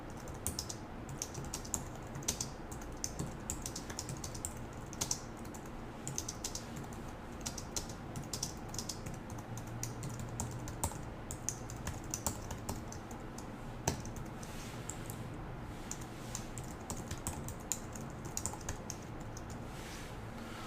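Code being typed on a computer keyboard, with a long run of quick, irregular key clicks and taps continuing steadily at close range and no talk.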